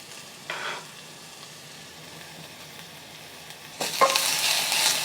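Garlic is added to onions sautéing in a pan. A faint sizzle and a brief scrape come first, then the frying swells into a louder, brighter hiss near the end.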